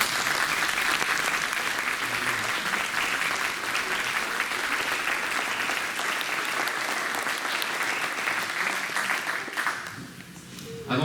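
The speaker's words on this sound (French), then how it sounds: "je souhaiterais simplement, si on pouvait, les applaudir," Sustained applause from an audience at a public gathering in Villebois-Lavalette, steady dense clapping for about ten seconds that thins slightly near the end.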